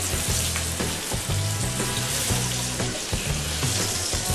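Blackened catfish frying in butter in a pan gives a steady, loud sizzle and crackle throughout, with faint scraping or stirring thumps underneath and no voices.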